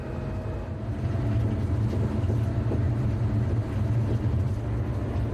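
A French TER passenger train hauled by locomotive 7281 on the Lyon–Marseille line gives off a continuous heavy low rumble of running gear, steady and close throughout.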